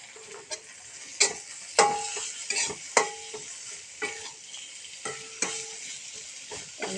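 Sliced potatoes and browned onions sizzle softly in a frying pan while a spatula stirs them in repeated scraping, clattering strokes, with a quiet steady fry underneath.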